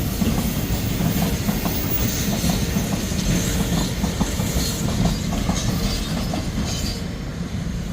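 A freight train rolls steadily past nearby, a continuous rumble with repeated clickety-clack of wheels over rail joints and a faint hiss.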